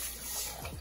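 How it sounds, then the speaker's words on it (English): Water poured from a cup into a pot of Caribbean boil corn mixture simmering on a stove, a short soft splashing pour heard close up with no talking. "We're also gonna go ahead and add 1 cup of water to this mixture that's on the fire right now."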